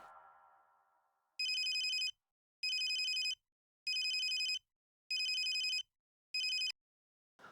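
A telephone rings in five crisp, evenly spaced electronic bursts, the last one cut short, in a quiet room during a sitcom scene, with no one talking over it.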